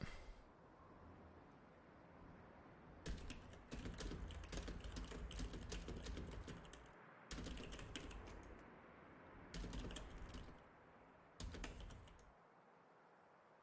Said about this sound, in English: I apologise if you can hear the rampant typing.